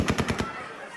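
Automatic gunfire during the chaotic 2021 U.S. withdrawal from Afghanistan, a rapid burst of about five sharp shots at a steady rhythm, fairly close, then trailing off into echoing noise.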